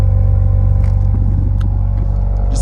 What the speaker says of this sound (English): this exhaust sounds fantastic